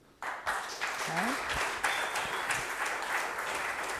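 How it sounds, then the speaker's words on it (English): Audience applause at a table tennis for health congress session, a steady broadband wash of clapping that starts abruptly and holds throughout, with a brief voice or tone rising over it early on. "A big round of applause, please"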